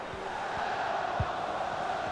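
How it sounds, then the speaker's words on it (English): A stadium crowd in the EA Sports FC video game, during a Lyon versus Arsenal women's Champions League semi-final, roars as a steady loud wash of cheering with a commentator's voice over it. "The crowd encouraging her to take it on."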